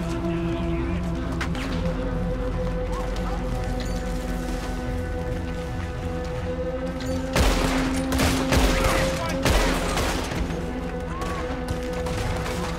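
Mounted-gun fire in Red Dead Redemption 2 arrives as a loud cluster of crackling bursts over a steady low background rumble, with quieter scattered shots before and after.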